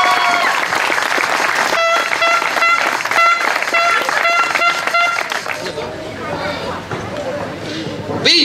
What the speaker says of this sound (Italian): un applauso a questi due giovanissimi sprinter